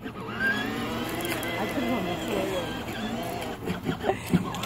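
A child's ride-on toy Jeep drives along with its electric motor whirring steadily under the pedal, while adults call out encouragement over it throughout.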